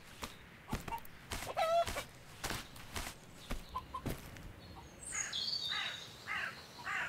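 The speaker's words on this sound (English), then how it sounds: "That chicken sounded a bit sick." A chicken clucks in the survival video game Survive The Nights, faint scattered clucks and squawks spread across the clip with sharp clicks and taps between them, growing busier near the end.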